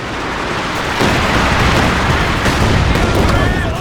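An artillery transport barrage in Company of Heroes 2, with loud overlapping shell impacts and rumbling explosions in a steady, dense roar, and a commentator's voice in the mix.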